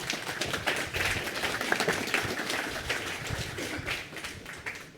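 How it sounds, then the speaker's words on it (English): An audience claps steadily for Zack Johnson, a crowd of dense, sustained applause filling the room with no voices on top. "Big round of applause for Zach."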